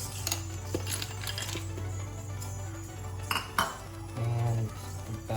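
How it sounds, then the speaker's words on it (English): Ice cubes drop into a watermelon and yogurt smoothie in a kitchen, producing a scattering of sharp clinks and clatters against the container, with a short rattling tumble near the end. "Now we will be adding our ice cubes."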